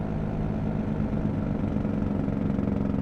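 A Cummins truck engine in American Truck Simulator runs a steady, loud, low rumbling drone with a pulsing chug, continuous and close for the whole stretch, with no voices over it.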